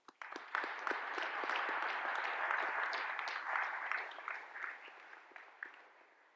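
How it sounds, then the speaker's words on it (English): An audience at a naval graduation ceremony applauds with dense, steady clapping that starts abruptly and tapers off near the end, moderately distant and without talk. "Please join me in a round of applause"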